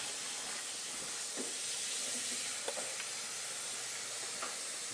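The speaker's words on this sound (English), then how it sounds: "I'm going to let this simmer on about medium-low." Marinara sauce simmers in a pot on medium-low heat, a soft, steady hiss with a few small, scattered bubble pops and no talking.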